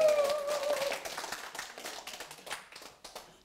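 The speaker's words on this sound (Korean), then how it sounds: "박수!" A short burst of audience clapping at a community talk show, loud at first and then thinning into scattered claps that fade out over a few seconds.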